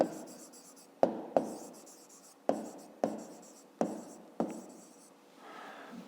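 Pen strokes scratch across paper as someone writes by hand in a notebook during a fifth-grade maths exercise, with a series of short sharp taps and scratchy strokes at close range, quiet and without talking.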